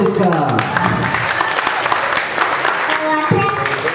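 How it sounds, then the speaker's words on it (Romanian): Applause for a child singer at the NextStar holiday show in 2013, a dense wash of clapping that runs the whole time, with a voice or music layered over it. "Doamnelor și domnilor, aplauze încă o dată"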